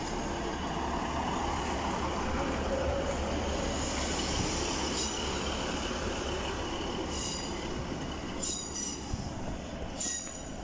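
A Northern Class 156 diesel multiple unit rolls into Darlington station, a steady loud rumble of wheels on rail throughout, with squealing wheel flanges and a few brief clatters toward the end; no talking.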